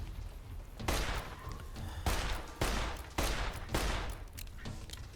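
Gunfire in Fallout New Vegas as radscorpions are blown apart: five or six loud, booming shots in a rapid irregular volley, each with a sharp crack and rumbling tail, no talking over them.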